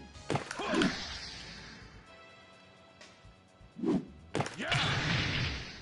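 Sweep attacks landing on an opponent in Virtua Fighter 5, with a few sharp thuds and whooshing impacts in separate bursts, mixed with game effects. A voice is heard briefly.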